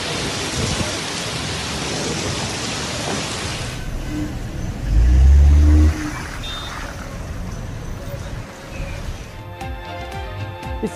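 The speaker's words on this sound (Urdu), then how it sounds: "اسلام آباد میں تیز ہواؤں کے ساتھ موسلا دھار بارش، کچھ سیکٹرز میں ژالہ باری" Heavy rain pours down in Islamabad amid strong winds and hail, a dense roaring wash with a loud low rumble midway before the downpour eases.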